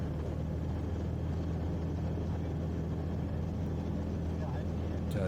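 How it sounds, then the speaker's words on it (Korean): A light airplane's engine, running on premium unleaded gasoline and idling more smoothly after warm-up, holds a steady loud drone with a low throbbing hum that continues without a break from start to finish. "예열을 한 후 다시 시동을 걸었을 땐 엔진이 상당히 진정된 모습을 보실 수가 있을 겁니다"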